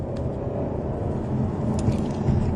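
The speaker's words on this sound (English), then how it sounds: "V8 engine that powers this really does give off the most fantastic sound out of those exhausts" An Audi RS7 Sportback's V8 engine runs with a loud, steady low rumble from the exhausts, close and unbroken throughout, with no talk.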